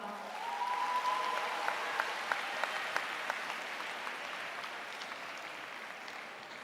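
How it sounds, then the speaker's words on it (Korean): Sustained audience applause fills a hall at a Seoul National University graduation ceremony, starting moderately loud, holding steady with a few sharper claps standing out, then tapering slightly toward the end. "큰 박수로 맞아주시기 바랍니다"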